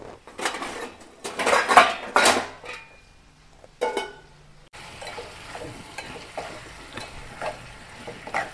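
A lid clatters onto a cooking pan of frying chicken with a few metallic clanks and scrapes, followed by a muffled, steady sizzle under the cover; no one speaks.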